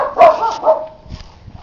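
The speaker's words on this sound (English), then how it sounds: "and the noisy dog next door" The neighbouring dog gives two loud, close barks in quick succession, then faint rustling follows.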